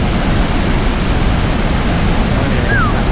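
Tad Yuang waterfall near Pakse, Laos, pours as a steady, loud broadband roar of falling water that stays constant throughout, with a brief faint whistle-like tone near the end.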